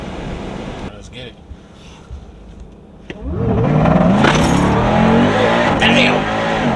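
A Jeep Trackhawk launches in a hard 0-60 run: after a quieter stretch, a loud engine roar surges at about three seconds and climbs through rising gear pulls, with voices talking over the cabin noise.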